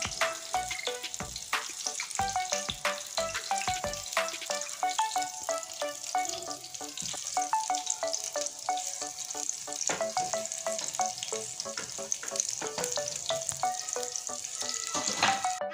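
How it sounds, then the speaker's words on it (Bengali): Yardlong bean pakoras frying in hot oil, a loud, continuous close sizzle with crackling pops and occasional utensil clinks, no talking. "এটা উল্টিয়ে দিচ্ছি বটবটির পকোড়াটা। দেখুন এই পিঠটা ভালো মতন হয়ে গিয়েছে।"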